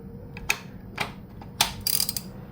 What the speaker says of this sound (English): and then we're just gonna ratchet it.